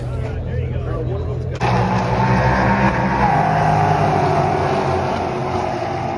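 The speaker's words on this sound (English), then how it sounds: "Sound of fast cars." Roaring race car engines rise into a loud, sustained rush as cars speed past nearby at Watkins Glen International race track, with a voice talking over the noise.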